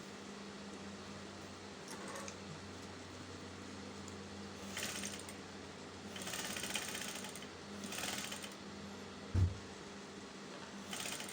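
Sewing machine stitching the back panels of a flared umbrella yoke blouse, quiet intermittent bursts of running stitches at moderate distance, with a soft motor hum between runs and a sharp thump near the end.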